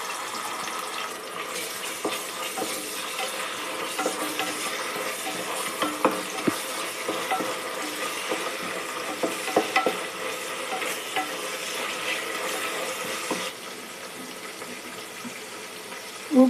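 Ginger garlic paste frying with onion and spices in ghee and oil for vegetable pulao, a continuous sizzle under frequent stirring scrapes and clinks, softening slightly toward the end.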